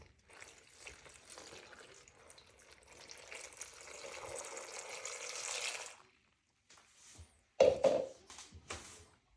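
Water is poured into a pot of marinated mushrooms with coriander, pepper and garlic, a steady broad pouring rush for about six seconds, then a pause followed by a few short louder clunks and splashes.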